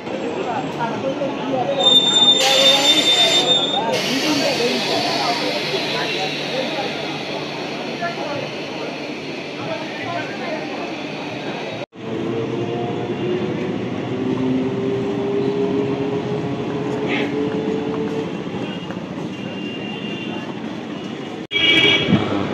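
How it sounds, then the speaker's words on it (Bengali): Hasnabad–Sealdah 12-coach local train pulling into platform 1 at Madhyamgram station, a steady loud rumble of wheels and carriages with faint squeals, while a platform announcement plays over it. "Train number 33530 down Hasnabad Shialda local is arriving on platform number 1."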